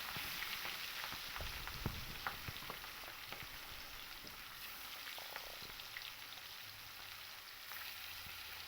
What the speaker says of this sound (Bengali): কড়াইতে সর্ষের তেল গরম করে নিয়ে মাছগুলোকে একটু লাল লাল করে ভেজে নেব